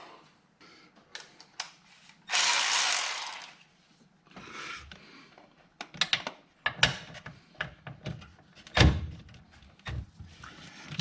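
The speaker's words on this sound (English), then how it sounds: "regular ratchet." A regular ratchet works a bolt loose during a crankshaft sensor replacement on a 2016 Nissan Rogue, giving close clicking bursts and metallic knocks, with one longer rasping stretch early on.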